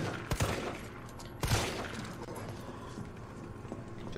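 Gunshots fired at a zombie in the Resident Evil 3 remake video game, two sharp, fairly loud cracks about a second apart, followed by lower game ambience and faint clatter.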